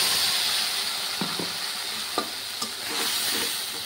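Tengra fish sizzling in hot oil in a pan, a steady bright hiss broken by a few soft scrapes and taps of stirring.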